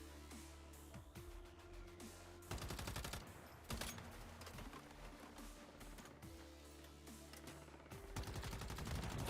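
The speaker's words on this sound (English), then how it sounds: "That other dude is shooting at me" Rapid bursts of teammate gunfire in the video game Once Human, dense crackling volleys repeating throughout over a steady game soundtrack, with louder clusters at several points.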